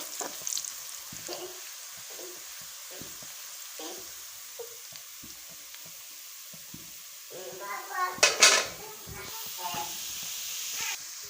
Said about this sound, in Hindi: प्याज की भुनाई कर लेंगे अच्छे तरीके से।